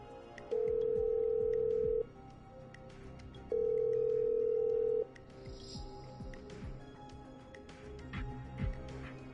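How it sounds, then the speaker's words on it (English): Telephone in the video game Killer Frequency: two long, steady ringback tones separated by a pause, followed by faint background noise and scattered soft clicks. "I'm dialing. One moment."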